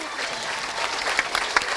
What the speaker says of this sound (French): Et je pense qu'on peut les applaudir très très fort